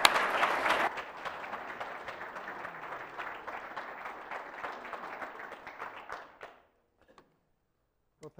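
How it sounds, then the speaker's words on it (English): Audience applause for a speaker at a presentation on federal forest policy and management, a dense burst of clapping through about six seconds that then fades out, leaving near silence. "So can we please give Jerry Franklin a round of applause?"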